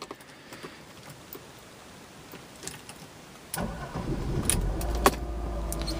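A 1992 Mercedes-Benz 300E starts after a few seconds of near silence: a short crank catches and settles into a steady, moderately loud idle.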